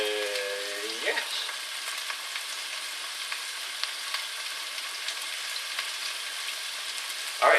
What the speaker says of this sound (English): that's going to sizzle away